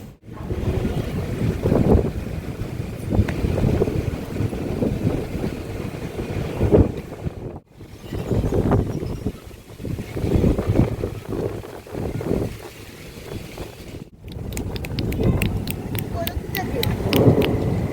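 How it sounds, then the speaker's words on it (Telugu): Strong wind ahead of rain buffets the microphone in loud, rough gusts that rise and fall, with brief lulls between blasts. "గాలి బాగా వస్తుంది"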